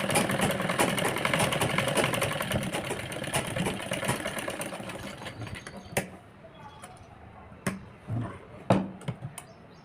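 A sewing machine stitches a crop top for a 12-year-old girl, giving a steady close whirring run for about six seconds. It then stops, leaving scattered clicks and handling noises.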